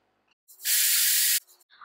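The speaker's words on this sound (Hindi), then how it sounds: "कुकर का ढक्कन लगा दें और हाई फ्लेम पर एक सीटी लगने के लिए छोड़ दें" A pressure cooker vents steam with one loud, steady hiss of about a second while cooking egg biryani over a high flame, with quiet kitchen sounds before and after.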